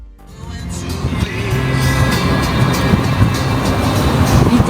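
A car drives along a French road between Carcassonne and Rocamadour, heard from inside as a steady, loud engine drone with road rumble that swells gently as it gathers speed.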